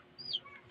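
A baby chick gives one brief, high, thin peep that rises and then falls, faint and close, against a quiet background.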